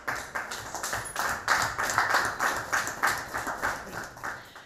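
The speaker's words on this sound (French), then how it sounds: "Applaudissements" Rhythmic clapping from an audience at a solemn ceremony renewing a headquarters agreement between the Beninese government and the NGO GAIN, with steady pulsing claps at moderate distance and fairly faint.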